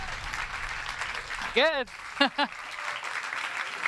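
Applause from an audience at a challenge finals event rustles steadily throughout, with a voice speaking over it in short bursts.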